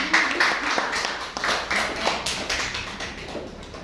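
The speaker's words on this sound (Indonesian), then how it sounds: "Tepuk tangan lagi dong yang sebenarnya." Students applaud at a campus student-association chair candidates' debate, a dense crowd-wide clatter of hands running steadily throughout at moderate loudness, with a voice briefly audible among it.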